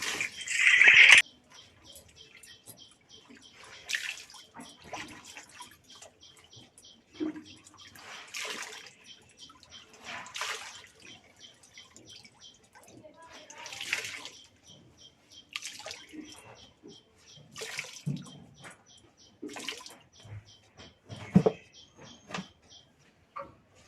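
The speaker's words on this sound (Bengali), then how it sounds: "যেগুলো কেচে ধুয়ে রেখেছিলাম সেগুলো এই যে নিংড়িয়ে তুলবো" Clothes being washed and wrung out by hand in a tub of water, with a string of separate splashes and dripping bursts spread across the stretch at close range, and a faint background ticking throughout.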